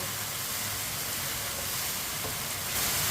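Meat curry with spices cooking in a pot over a raised flame while a spoon stirs it, giving a steady, continuous sizzle and hiss that holds even throughout.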